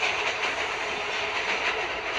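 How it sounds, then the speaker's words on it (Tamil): A train rolls past a crossing in a Roblox prison-run obby game, a steady loud rumble and rattle of wagons that fills the whole stretch with no talk. "ட்ரெயின் கிராஸ் ஆக போகுது"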